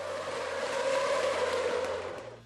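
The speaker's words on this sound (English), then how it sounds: "everything changed when he came out with this exceptional and mesmerising overtake" A Formula 1 car drives an overtake on a race circuit, its engine holding a loud, steady, high whine that swells slightly and then fades, with no other sounds.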